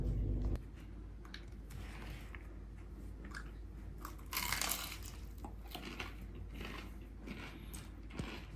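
Crunchy headless fried chicken being bitten and chewed: a loud initial crunch, then quiet, close chewing with scattered crisp crackles and a brief louder crunch midway.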